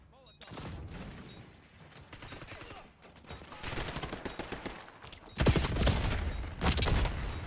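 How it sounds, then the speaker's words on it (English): Gunfire in a Demolition match of an online shooter game, with an enemy sniper firing amid bursts of rapid shots and booms that grow louder toward the end. "Enemy sniper shooting."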